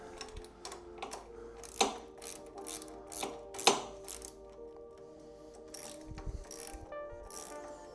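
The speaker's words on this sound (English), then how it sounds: "And then we're just going to tighten up that nut." Ratcheting clicks from a wrench tightening the nut on a lawnmower recoil starter, a quick run of mechanical clicks with a few sharper clacks, close and alone.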